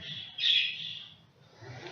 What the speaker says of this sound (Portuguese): Os passarinhos estão atrapalhando.